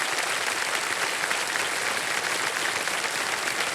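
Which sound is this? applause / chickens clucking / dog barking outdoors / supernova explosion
applause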